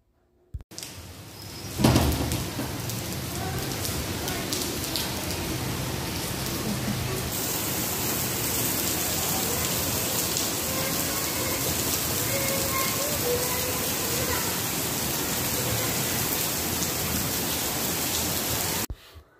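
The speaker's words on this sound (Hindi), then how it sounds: "सावन का महीना स्टार्ट हुआ हुआ है बारिशें तो आए रोज़ हो रही हैं" Heavy monsoon rain falls steadily and close by, a dense, even wash of drops on surfaces lasting throughout after a brief quieter start.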